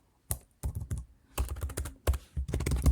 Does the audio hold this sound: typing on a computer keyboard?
yes